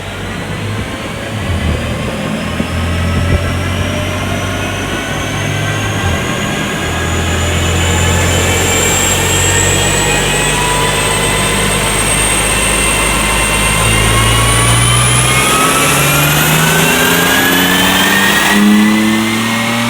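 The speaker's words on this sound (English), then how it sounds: "now we're going to fire it up, and then we'll do some after tests here on the dyno" A BMW M4 with a ram air intake revs hard on a dyno, its engine note climbing steadily as rising whine harmonics sweep upward over twenty seconds of loud, continuous acceleration with no talking.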